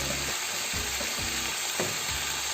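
Ginger and garlic sauté in a pan as the base for a beef curry, giving a steady close sizzle broken by several soft scrapes of stirring, with no voices.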